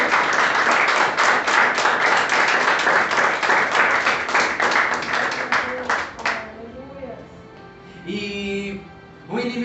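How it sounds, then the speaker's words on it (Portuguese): A church congregation at a worship service claps together in a steady, rhythmic burst that ends abruptly after about six seconds, followed by a voice speaking. "Que a igreja venha uma salva de palmas ao Rei da Glória."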